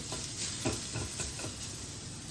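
Crushed garlic frying in a pan of mushrooms, a steady close sizzle with soft scraping stirs running throughout, no voices.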